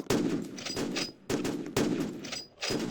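Gunfire from a Roblox first-person shooter game bursts in rapid automatic volleys, loud and close, with brief gaps between bursts.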